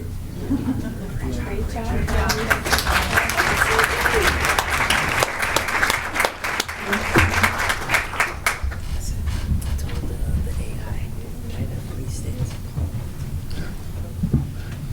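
An audience at a county commissioners meeting applauds students with loud, sustained clapping that swells for several seconds and then thins out, with voices heard underneath and after it.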